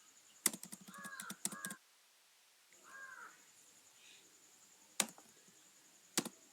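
A computer keyboard used for writing Java code gives a few quick bursts of close key clicks and then single sharp taps after pauses. A faint bird call is heard in between.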